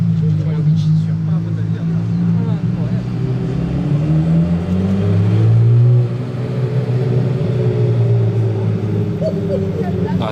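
A Ferrari F50 with hardtop rumbles and revs at the Monaco Historic Grand Prix, a loud, low engine drone that rises in pitch midway before settling, with people talking over it.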